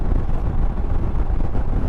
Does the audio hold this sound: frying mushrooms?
no